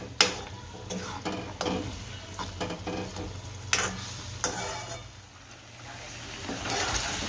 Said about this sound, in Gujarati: આપણે ગ્રેવી ઉકળવા મળી છે. જેમ ઉકળે એમ તેલ છૂટું પડે.